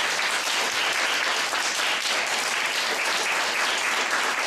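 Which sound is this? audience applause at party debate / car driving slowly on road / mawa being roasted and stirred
audience applause at party debate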